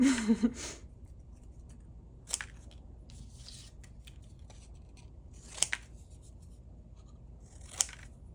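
Scissors snip through paper while cutting out shapes for a painted monster craft, a loud crunchy cut at the start, then three sharp isolated snips spaced a couple of seconds apart over quiet room tone.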